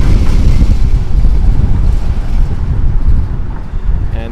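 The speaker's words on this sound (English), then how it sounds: "And it is super windy up here." Strong wind roars and buffets across the microphone on a drawbridge over Newtown Creek in New York, a dense, loud, continuous rumble with gusty swells and no speech.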